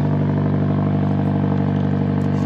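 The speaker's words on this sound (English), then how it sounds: "His car is loud." A loud car engine idles steadily at an outdoor car meet, a deep constant rumble with a faint rattling clatter over it and no talking.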